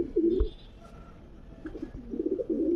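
Closed-tail low-flying pigeons in a breeding loft in Krishnanagar coo close by in two bursts of throaty, rolling calls, one at the start and a longer run at the end, with a quiet gap between.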